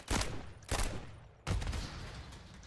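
Gunfire in a Call of Duty first-person shooter match, three sharp bursts of rapid shots a fraction of a second apart, loud and close, each ringing off with a brief echoing tail.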